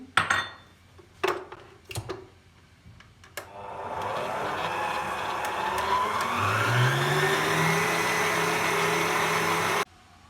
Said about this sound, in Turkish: Bunları çırpıp bir kek kıvamına getireceğim şimdi